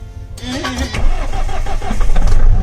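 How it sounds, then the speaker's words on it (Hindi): A car engine cranks and catches in freezing cold, about minus 13 degrees in the winter Spiti Valley, then settles into a loud, rough idle that climbs briefly as it revs. "और गाड़ी पहले से अपने स्टार्ट हो गई।"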